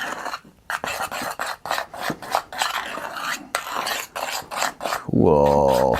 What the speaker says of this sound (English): Okay, let's get mixing.